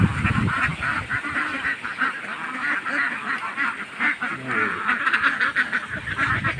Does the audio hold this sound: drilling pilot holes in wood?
no